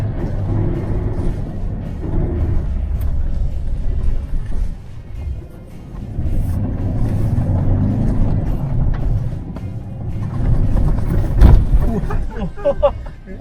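A Ford Ranger XL 3.2 (T7) pickup pulls through dirt terrain in second gear, its engine a heavy low rumble that swells and eases with the throttle, while occupants chat over it and loose rattles knock near the end.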